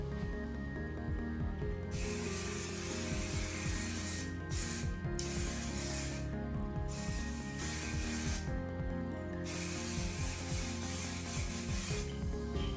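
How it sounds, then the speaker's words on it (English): Continuous hissing bursts of hairspray sprayed onto curly hair, loud and close, with short gaps between sprays and rubbing sounds underneath. "Let's spray it with the aerogel."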